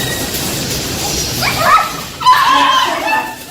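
A beagle in a testing facility gives a few whimpering yips and barks close by, rising over a low murmur of background noise.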